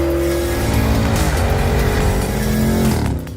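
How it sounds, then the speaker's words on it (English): A 2021 Porsche Cayenne GTS Coupe with a 453-hp twin-turbo V8 drives past loudly, its engine note holding steady then sweeping in pitch before fading at the end. "The highlight of the new Cayenne GTS is its new V8 twin-turbo engine"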